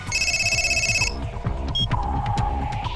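A telephone rings loudly with a dense, trilling electronic bell for about a second, then stops, leaving a steady low rumbling background with a few faint clicks.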